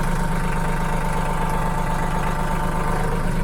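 A tractor used for moving feed between bins idles with a steady, close, low-pitched rumble and a slight knocking vibration throughout, and no one speaks.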